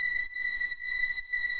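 A thin, sustained synth string tone with high steady harmonics, repeating in short phrases with brief gaps, eerie and fairly quiet.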